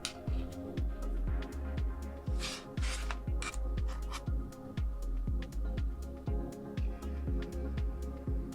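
A plastic spudger scrapes and pries at adhesive strips under a MacBook Pro 13-inch battery, giving a close series of regular rasping, scratchy strokes with soft ticking knocks, repeated steadily throughout.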